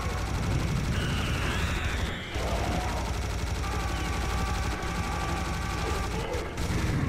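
Rapid continuous gunfire in the video game Serious Sam HD rattles away as a dense, loud fusillade for several seconds, with brief pauses and game effects layered over it, no clear speech.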